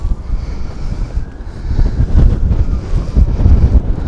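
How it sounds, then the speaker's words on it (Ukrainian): Strong wind gusting straight into the microphone outdoors in Świdnica, a loud continuous low rumble and buffeting that grows heavier in the second half, with no voices. "Зараз дує такий доволі сильний вітер тут."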